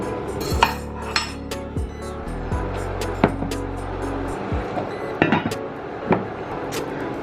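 A pan is lifted and shifted on a kitchen stove, giving several sharp metallic clanks and scrapes over a low steady hum that cuts out partway through. No one speaks.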